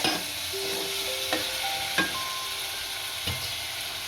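Chopped tomatoes and garlic frying in a pan, giving a steady low sizzle with a few clinks and scrapes of stirring, near and clear, with no voices.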